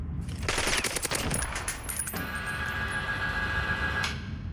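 Automatic gunfire in the video game Warzone rattles in quick, dense bursts for about two seconds, then gives way to a steady ringing hum and ambient noise, near and loud with no talking.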